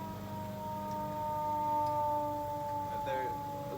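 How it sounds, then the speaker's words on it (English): Emergency vehicle siren wailing in a residential neighborhood, heard faint and distant as a steady rising and falling tone heard through a quiet room. "Sorry about the siren, y'all."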